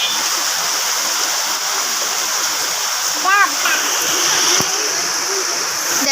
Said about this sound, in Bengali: ক্যামেরা ততটা বুঝে যেতেছে না, বাট বাস্তবে অনেক জোস বৃষ্টিটা গাইস।